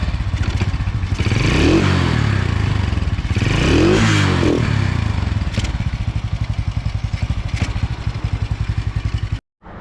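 A motorcycle engine revs loudly and unevenly, surging and faltering twice, then sputters before cutting out abruptly near the end.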